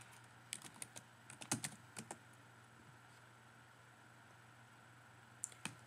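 Typing on a computer keyboard while entering a repository name: a few scattered quiet key clicks in short bursts, with long gaps of near silence between them.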